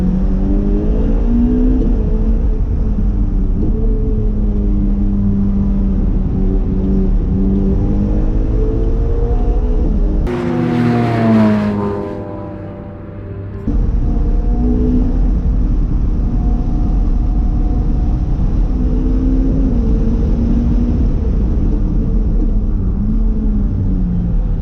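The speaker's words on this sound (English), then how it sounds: "The car actually whistles like that. So that's the 488 Pista for you guys." A Ferrari 488 Pista supercar drives past with a droning engine and a rising-and-falling whistle, loud and close. Midway, a brief harsh burst cuts through the sound before the steady cruising drone resumes.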